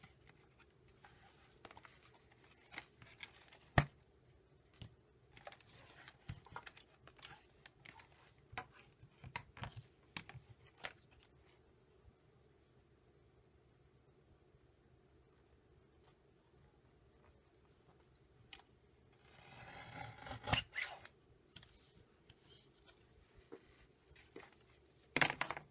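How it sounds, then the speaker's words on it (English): Scissors snip paper craft pieces for a flip fancy tag in a quiet room, with scattered sharp cuts and small handling clicks, then a brief rustling burst near the end. "So I'm just going to cut those real quick so that they're straight."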